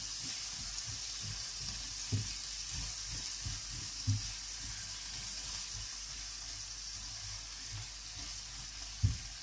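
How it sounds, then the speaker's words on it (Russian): Onion fries in a pan for mushroom caviar, giving a steady close sizzle with scattered soft taps and scrapes of stirring throughout, and no voices. "И обжариваем лук."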